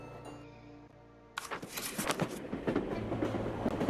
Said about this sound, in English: No, it's an actual train!